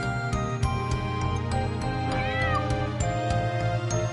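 A black cat meows in the role-playing game Wild Arms 2, a drawn-out wavering cry heard over a steady musical background with rhythmic plucked notes.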